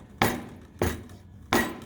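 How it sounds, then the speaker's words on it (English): A knife chops through a block of chocolate on a board in three sharp, evenly spaced thuds, each a crisp close crack with a short decay. "Chopping chocolate's a pain, but you know, sometimes it's necessary."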